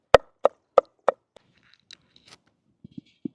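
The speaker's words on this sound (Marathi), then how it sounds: "आता आपण मेथीच्या तडक्यासाठी लसूण चॉप करून घेऊ।" Garlic is chopped coarsely with a knife on a board for a methi tadka. Four sharp, evenly spaced knocks open the clip, then lighter scattered taps follow and a few duller thuds close it, with no talking.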